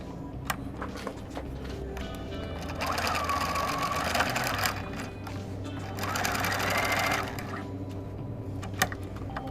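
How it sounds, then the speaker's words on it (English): A domestic sewing machine runs steady stitching along pocket bag seams in two distinct bursts, close and clear over a constant motor hum. "now we're going to sew again with 5/8 of an inch."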